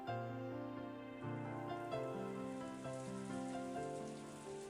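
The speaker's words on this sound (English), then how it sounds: "As Angie slept, she was wrapped up in the soft sound of the rain" Soft, steady rain from the Umineko visual novel falls continuously under a layered, sustained musical score, with no talking.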